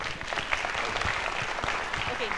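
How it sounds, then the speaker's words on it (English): Audience at a talk or event applauding a speaker, steady crowd clapping at moderate volume with voices murmuring underneath throughout the short burst. "One round of applause for Shashi"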